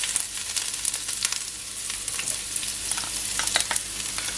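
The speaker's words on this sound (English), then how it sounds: "So now I'm gonna firstly add my onions." Onions frying in olive oil in a pot, a constant close hiss with crackling pops throughout, no voices.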